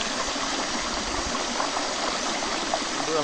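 Stream water flows steadily at an outdoor picnic spot, a continuous broadband rushing and gurgling close by that stays even in loudness throughout, with no speech.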